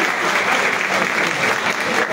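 Teachers' union general assembly breaking into steady, dense applause by acclamation, a continuous wash of many hands clapping with no pauses, fairly loud and close throughout.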